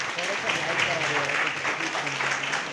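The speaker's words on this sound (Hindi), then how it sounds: "तो एक बार जोरदार तालियां" Enthusiastic audience applause for a managing director at an organizational gathering, a dense continuous clapping roar throughout, with voices mixed into the crowd.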